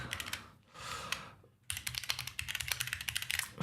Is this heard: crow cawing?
no